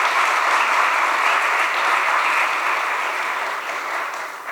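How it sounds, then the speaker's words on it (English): Sustained applause from an audience at a devotional dance performance, a dense, steady wash of many hands clapping that holds evenly and eases slightly toward the end, with no talking over it. "Can we just have another huge round of applause for them again?"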